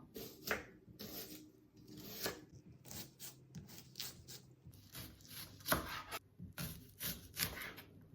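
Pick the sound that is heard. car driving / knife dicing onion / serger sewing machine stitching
knife dicing onion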